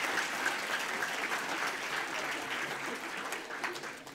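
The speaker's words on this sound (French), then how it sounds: "Vous pouvez l'applaudir aussi." Audience applause at the ICES Show 2017 evening event, a steady, dense wash of clapping from a seated crowd that holds for several seconds without fading, with no one speaking over it.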